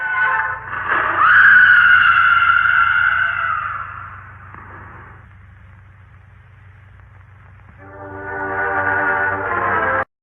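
A high, sustained scream dubbed over a man falling in an episode of The Lone Ranger, loud and drawn out for about three seconds, then fading, before a second rising wail near the end over a low steady hum.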